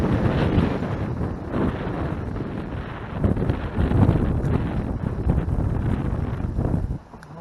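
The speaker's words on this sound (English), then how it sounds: "It's still just as windy." Gusty wind roars over a lake on a fall day while fishing, buffeting the microphone in heavy, rumbling surges that ease briefly near the end.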